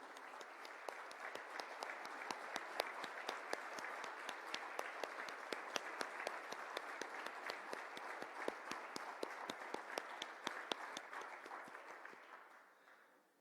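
Conference delegates at the UNIDO General Conference give a round of applause, heard from a distance as a steady patter of many hands with sharper individual claps standing out, gradually fading away at the end.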